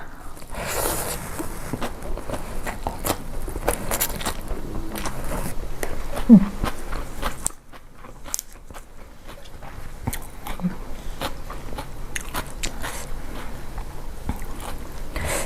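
Close, soft chewing and slurping of khanom jeen rice noodles in coconut fish curry with bouncy fish balls and cha-om, with wet mouth sounds and small clicks throughout and a brief pause near the middle.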